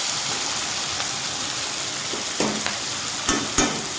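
A small-fish mixture fries in a pan with a steady close sizzle, and a few sharp knocks come near the end as it is turned.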